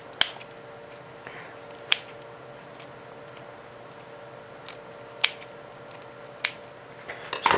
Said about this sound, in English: So I just had my scissors. So now I'm just going to cut up some bacon.